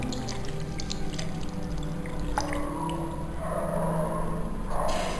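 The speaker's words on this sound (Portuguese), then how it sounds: "Esse aqui ainda tá com espuma, então eu vou passar mais água." Foamy makeup brushes are rinsed under running water: a steady pour and splash with small drips and squishes, close and fairly quiet, with no talking.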